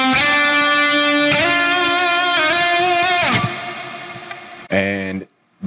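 Sustained harmonic guitar notes ringing out through a space delay effect, with a spacious, lingering delay and reverb tail, followed by a brief separate strum near the end.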